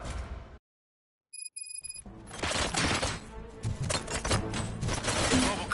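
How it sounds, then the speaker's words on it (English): Gunfire in the video game Robocop: Rogue City, beginning after a brief silence with faint high tones, then loud, dense bursts of shots and impacts filling the rest, with a voice speaking briefly. "Gunshots? What's going on?"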